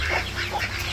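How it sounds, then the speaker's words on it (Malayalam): A duck among backyard poultry gives a short run of loud, close, raspy quacks lasting about a second, with no talking. "താറാവുണ്ട്."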